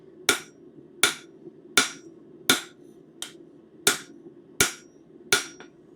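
Steady hammer blows on hot metal at an anvil while forging a bird feeder hanger, eight sharp ringing strikes about every 0.7 seconds, close and loud, with one lighter tap between them.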